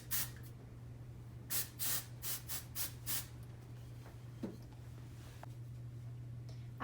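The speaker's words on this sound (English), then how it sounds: "I'm just gonna apply some dry shampoo to the roots." Dry shampoo sprayed onto the roots of hair, a quick string of about six short hissing bursts close to the microphone over a steady low hum, then quiet rubbing.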